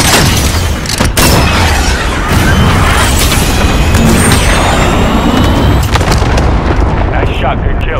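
Cruise missile strikes in Call of Duty Modern Warfare, a loud, continuous roar of heavy explosions and rumbling blasts with sharp cracks layered on top, close and overwhelming throughout.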